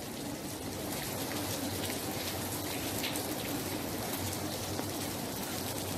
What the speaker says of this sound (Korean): 여기 완도도 지금 비가 너무 많이 오고 있네요